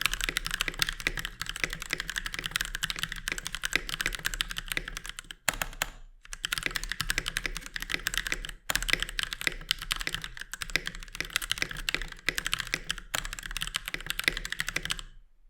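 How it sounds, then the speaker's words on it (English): Steady, brisk typing on a Keychron K6 mechanical keyboard, dense rapid key clicks with two short pauses, close and clear with no voices. "Here's a typing test after 2 months of using the Keychron K6."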